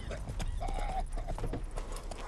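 Roach, the horse from The Witcher 3, clops briefly and close with a short whinny-like tone, mixed with game ambience and a little voice in the background.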